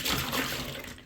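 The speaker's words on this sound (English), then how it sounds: "The hot water is to activate the OxiClean, and then we're going to swish it." Hot water mixed with OxiClean is swished around in a bucket, a steady close sloshing and rushing of liquid without pause.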